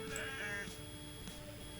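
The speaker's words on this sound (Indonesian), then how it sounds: "telah lahir lagi 2 anak kambing yang saya pelihara" Newborn goat kids bleating, a few short, thin cries close by, faint over a steady background hum.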